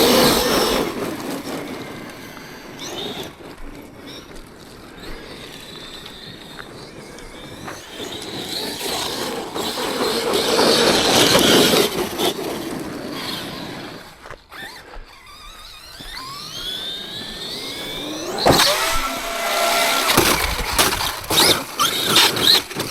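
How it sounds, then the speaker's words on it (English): Whining gearbox of an X-Maxx 8S RC monster truck with an MT8 gearbox, rising and falling in bursts with rattly mechanical noise and wind, fairly loud and close, without talk. "can you hear that gearbox? Oh, that's off my MT8."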